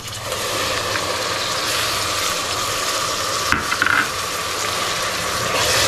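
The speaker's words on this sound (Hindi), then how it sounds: "ये फ्राई तो हो चुका है प्याज अभी डालता हूँ मैं टमाटर का पेस्ट" Fried onions in a pan get stirred as tomato paste goes in, a continuous close sizzle with scraping stir sounds and a brief clatter, no voices.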